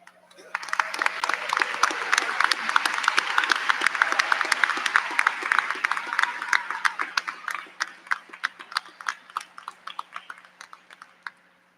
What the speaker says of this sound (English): so we may applaud your achievements